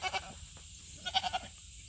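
A heavily pregnant goat on a homestead lets out a couple of short, nasal bleats, near and fairly clear against a quiet outdoor background.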